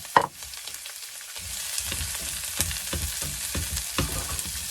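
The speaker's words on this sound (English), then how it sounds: "When the oil in your pan is shimmering, chuck in your veggies. Be careful, they might spit a little bit." Vegetables drop into hot shimmering oil in a single pot on a campervan stove, a sharp splash followed by a steady crackling sizzle with soft scraping tosses, close and continuous, no talking.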